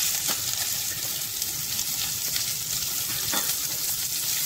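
Onions sizzle and crackle steadily in a hot pan, a constant close frying hiss with no voices.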